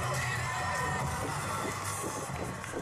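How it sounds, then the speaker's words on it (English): A wrestling crowd roars steadily during a big man's entrance at an FSW High Octane show, a dense, continuous wash of cheering and yelling that stays loud from start to finish. "Listen to the crowd. They are behind Hader tonight."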